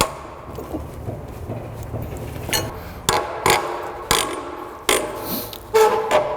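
Metallic ratchet clicks and sharp clanks from loosening a seized bolt on a GMT400 truck front end, several loud bursts of work in the second half over a low background.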